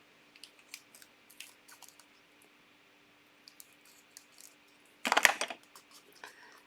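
Scissors snip through clear application film for UV resin jewellery, a quick cluster of crisp close cuts near the end, preceded by scattered faint handling taps and rustles in a quiet room.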